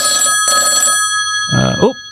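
A telephone rings twice in two short bursts, loud and close, then a voice starts speaking briefly at the end.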